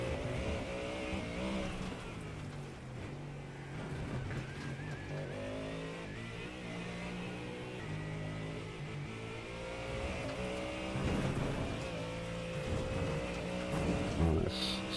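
A race car engine in the iRacing sim drones continuously for about fifteen seconds, with steady high revs, shifts and rising and falling pitch as the car laps a track, loud and close throughout.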